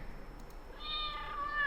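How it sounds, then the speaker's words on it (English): A single cat meow, drawn out and rising slightly, fairly faint and heard on its own without talk. "It's a cat."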